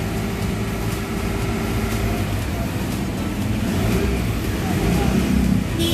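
A 2015 Chevrolet Colorado engine idles steadily just after a fuel filter replacement, a continuous low rumble with a slight swell toward the end, close by.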